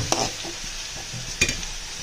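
Crushed garlic stirred in hot oil in an iron wok for a Kerala-style pork dry fry: a steady frying hiss broken by two sharp spatula scrapes, close and fairly loud, with no voices.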